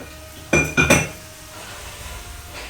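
Food in a pot stirred with a metal utensil: two or three sharp close clanks and scrapes against the pot near the start, then a quiet low background with faint movement.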